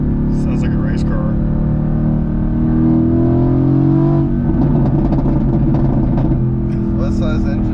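A 2016 Mercedes-AMG GT S with a twin-turbo V8 engine revs loudly and steadily, its low rumble swelling midway through while people talk over it.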